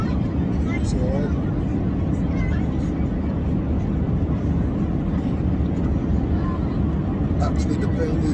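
Steady, loud low rumble of an airplane cabin in flight through turbulence, a constant roar with no breaks, with a voice speaking faintly over it.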